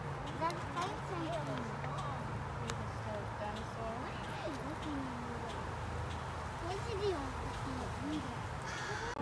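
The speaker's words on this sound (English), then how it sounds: "It's a parrot!" Squawking parrot calls, some of them rising and falling, repeat throughout a zoo visit, heard at moderate distance under a child's and an adult's excited talk and general crowd noise.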